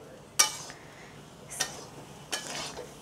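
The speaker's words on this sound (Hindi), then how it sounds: "हम प्याज को भी दाल के साथ मिक्स कर लेते हैं" A spoon scrapes and clinks against a pan while chopped onions are stirred into cooked chana dal for samosa filling, three distinct metallic scrapes spaced about a second apart over a quiet background.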